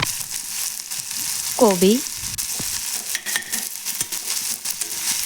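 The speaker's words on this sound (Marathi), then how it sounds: "आणि कांदा सोबत शिमला मिर्च परतून घ्यायचं आहे 1 ते 2 सेकंद" Onion and capsicum sauté in a pan with a steady close sizzle and occasional stirring scrapes, while a voice speaks briefly over it.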